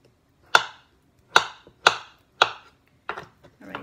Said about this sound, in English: So we have the avocado. We also chop this into small pieces.